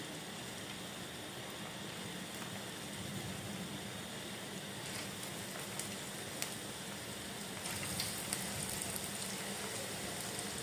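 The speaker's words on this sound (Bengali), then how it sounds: "তেল গরম হওয়ার পর এখানে ছোট ছোট পাকোড়া বানিয়ে দিয়ে দিলাম।" Small bottle gourd pakoras frying in hot oil in a wok give a steady, even sizzle and bubbling hiss, moderately close, with a few faint clicks and no talking.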